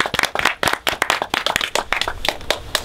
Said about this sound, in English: a round of applause for Jess and the bar flower remedies